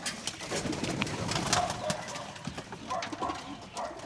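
Panjabi racing pigeons coo softly and repeatedly inside a pigeon loft in Nepal, a faint, steady murmur of calls with light rustling.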